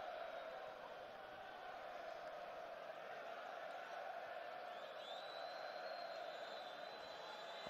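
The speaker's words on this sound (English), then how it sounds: "Ironic applause as Andora enjoy sustained possession in the Croatian half." A football stadium crowd at Croatia versus Andorra gives sustained, distant ironic applause, a broad steady roar of clapping and murmur holding evenly throughout.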